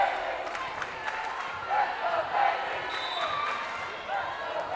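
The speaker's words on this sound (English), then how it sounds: "This crowd is chanting" Crowd at a high school girls' volleyball game chanting a player's name in a steady rhythmic cadence, a moderately loud mass of voices filling the gym with scattered cheers over it.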